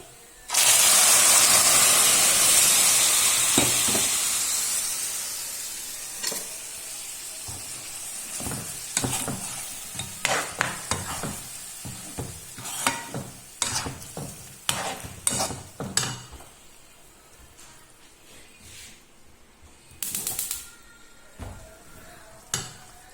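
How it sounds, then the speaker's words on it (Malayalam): Cooked chicken with onions for pepper chicken hits a hot pan with a loud hissing sizzle that fades over several seconds, followed by repeated scraping and clattering stirs over a softer sizzle. "ഇപ്പോൾ അത് വെന്ത ചിക്കൻ ഇതിലിട്ടിട്ട് ഒന്ന് വറ്റിച്ചെടുക്കണം"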